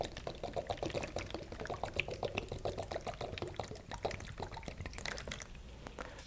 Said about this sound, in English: I take hydrogen peroxide and I pour it into a plastic container